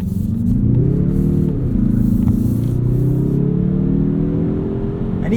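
A 2022 Mazda3 2.5 Turbo AWD hatchback pulling in sport mode, its engine a loud, deep, torquey drone that rises steadily in pitch with a brief dip as it shifts, heard from inside the cabin.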